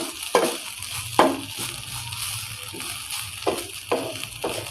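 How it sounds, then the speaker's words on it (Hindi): Minced meat keema fries in a pan over low heat, giving a steady sizzle broken by several sharp scraping bursts of stirring at irregular intervals, close and moderately loud, with no talking. "इसके 1-2 मिनट के लिए ऐसे ही फ्राई कर लेते हैं अब दोबारा से"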